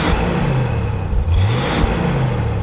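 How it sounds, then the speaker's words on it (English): A 1977 AMC Gremlin X with the 258 engine and factory four-speed revs from idle, its engine rising and falling twice in quick blips over a steady rumbling exhaust, close and loud. "Go ahead and rev it up a little bit."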